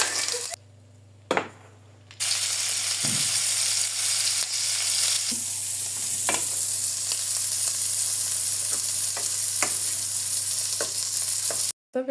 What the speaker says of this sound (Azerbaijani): Bunları qızardanda biraz yağ ora-bura sıçradı.